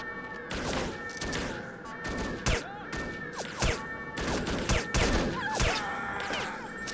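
Rapid gunfire in The Operative: No One Lives Forever, loud bursts of shots with thumps and impacts repeating throughout, dense and busy with game effects layered underneath.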